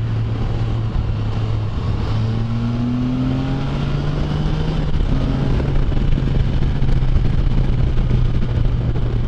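A Can-Am Spyder three-wheeler pulls out of a corner in too high a gear, its engine droning loud and steady close by and rising in pitch as it accelerates, with no voices.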